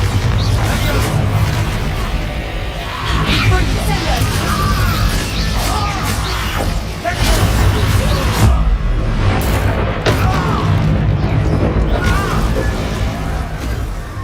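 Bombarda spell explosion in the video game Hogwarts Legacy: a dense, loud wash of crashing, booming combat effects that never lets up, layered under game music, with voices breaking in at moments.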